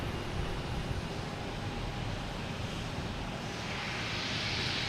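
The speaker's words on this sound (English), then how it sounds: "next taking off is WestJet heading to Calgary" A WestJet Boeing 737-800 takes off at Boston Logan Airport, its jet engines a steady, broad rushing roar heard at a moderate distance, with no talk over it.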